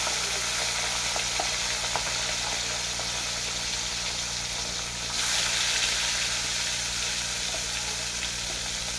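Pieces of catla fish fry in very hot oil on a gas stove, giving a continuous, steady sizzle close by with faint crackles, briefly dipping before it swells again.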